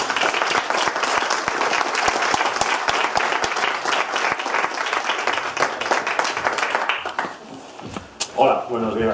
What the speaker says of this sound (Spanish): pido por favor un fuerte aplauso totalmente merecido